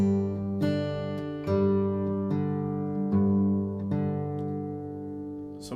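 Fingerstyle acoustic guitar blues in G, playing a pinch followed by alternating bass notes, with a steady picked rhythm of ringing notes, close and clear with no talk.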